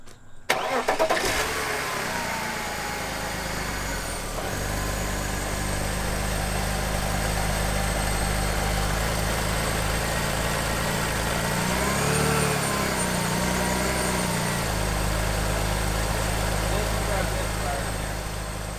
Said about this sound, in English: Care if I fire it up?